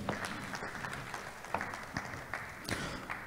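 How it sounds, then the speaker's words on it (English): Scattered applause at a Nigerian Institute of Quantity Surveyors annual distinguished lecture in Lagos, fairly faint with distinct individual claps standing out in an uneven rhythm. "Let's give her another round of applause."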